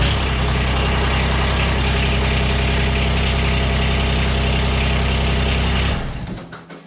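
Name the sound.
Mahindra eMax 20s tractor engine starting and idling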